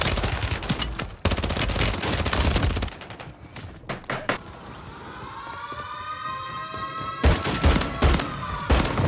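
Call of Duty gunfire on Rebirth Island comes in loud, dense bursts of rapid automatic shots, breaking off briefly amid game sounds including a rising siren-like tone, then resuming near the end.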